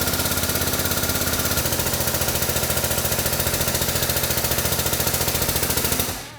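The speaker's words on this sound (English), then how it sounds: "Get our press set up so we can press this shaft down through the bearing" A press forcing a shaft down through a bearing during a portal gear rebuild, a steady loud rapid mechanical pulsing that runs evenly before cutting off at the end.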